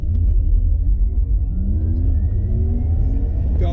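Porsche Taycan Turbo S electric car launching hard down a quarter-mile drag strip, a loud steady roar of tire and drivetrain noise with rising motor whine tones climbing through the run, close and continuous.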